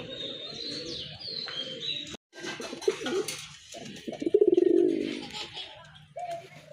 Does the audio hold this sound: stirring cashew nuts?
no